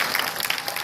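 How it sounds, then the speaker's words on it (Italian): Audience applause at a live Italian music show, a brief burst of dense, steady clapping filling the whole moment. "qui applauso."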